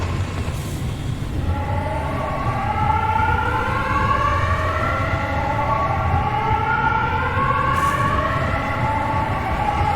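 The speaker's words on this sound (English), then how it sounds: "the telltale siren always let me know when I needed to hurry up before the storm overtook me" Storm warning siren in the video game Pacific Drive, a long steady rising and falling wail over constant low rumbling, loud and continuous, without talk.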